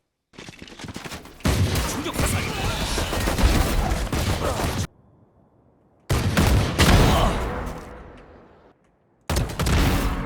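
Rapid automatic gunfire in Valorant on the Ascent map, loud dense bursts of sustained shooting broken by abrupt gaps of near silence, close and dominating.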